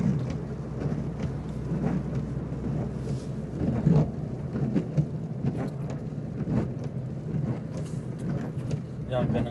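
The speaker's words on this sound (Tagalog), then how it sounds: "Ang lakas talaga ng ulan." Heavy rain pours steadily with a dense roar in Italy, a voice murmuring faintly underneath.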